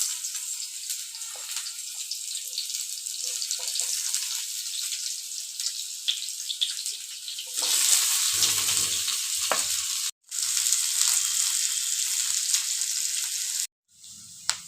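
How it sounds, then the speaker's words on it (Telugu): Sliced onions and green chillies frying in hot oil in a pan, with a loud, continuous sizzle that swells as they go in and breaks off briefly twice, no voices over it. "ఆయిల్ వేడైనది. ఇప్పుడు మనము కట్ చేసి పెట్టుకున్న ఆనియన్ మిర్చిని యాడ్ చేసుకుందాం."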